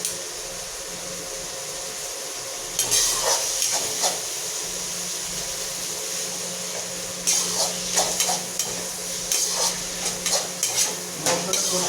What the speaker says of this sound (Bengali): মশলাটা কষে আসুক